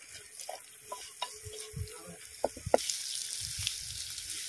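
Garlic, a piece of ginger and green chillies fry in a pan, a faint sizzle under intermittent stirring scrapes and taps, with a louder crackle near the end.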